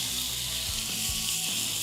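Seasoned white fish fillets frying in hot oil in a pan, giving a constant bright sizzle with low crackling and faint background hum.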